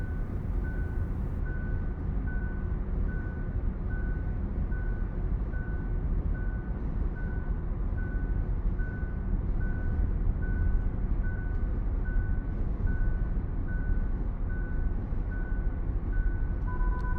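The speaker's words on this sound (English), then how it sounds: "2 minutes 15 seconds is where it starts beeping, giving you an audible warning to put your hands back on the wheel" A Kia EV9's lane centering system sounds a steady series of evenly spaced, mid-pitched warning beeps for a hands-off condition, clearly audible over constant loud road and cabin noise while driving.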